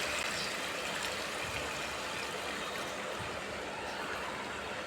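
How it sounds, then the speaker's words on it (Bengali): Water poured into a pot of pumpkin curry cooking on the stove, a steady broadband rushing hiss lasting the whole stretch at moderate, even loudness with no talk. "পরিমাণে পানি দিয়ে দেবো"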